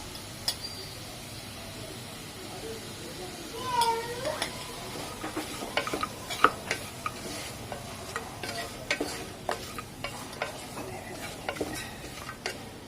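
Masala sautéing in a pan for goat chest-bone soup, a faint low sizzle under repeated clinks and scrapes of a spoon against the pan, quiet and close.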